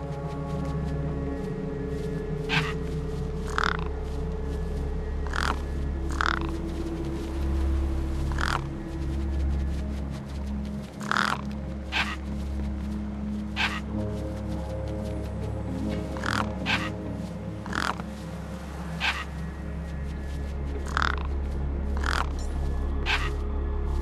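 Crows in the video game Beyond a Steel Sky caw repeatedly over a steady low ambient drone, loud harsh calls spaced irregularly throughout, gathered around a feast, with no speech.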